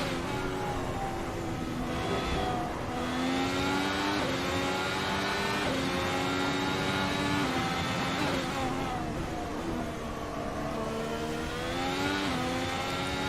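Race car engines in the Assetto Corsa racing game, several cars revving and shifting continuously at close range, pitch rising and falling through gear changes with no break.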